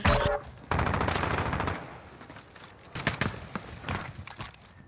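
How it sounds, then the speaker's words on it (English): Rapid gunfire in a shooter video game, a dense loud burst at the start followed by further close volleys and scattered single shots, with no talking. "I can hear my shots."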